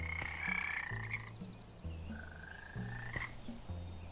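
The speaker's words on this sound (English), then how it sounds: "Some type of mod which has frogs in" Frogs croaking in a modded Minecraft world with shaders, a musical series of clear, close croaks in a rhythmic pattern with tonal, whistle-like calls over a quiet backdrop, no talking.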